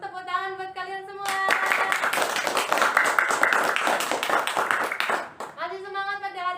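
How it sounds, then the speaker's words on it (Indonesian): Brief burst of scattered clapping from a primary school classroom after a drama performance, framed by a teacher's voice before and after. "Tepuk tangan buat kalian semua."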